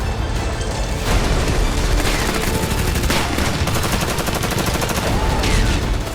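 Dense gunfire erupts in close combat between Russian and Ukrainian soldiers in woods outside Robotyne, Ukraine, with rapid overlapping shots and bursts forming a loud, continuous barrage.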